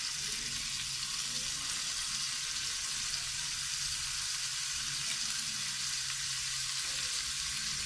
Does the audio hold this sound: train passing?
no